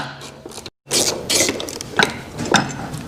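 A ratchet clicks and whirs in quick, close bursts while removing the rear brake caliper bolts on an Indian motorcycle, with metallic mechanical rattling and a brief silent gap early on.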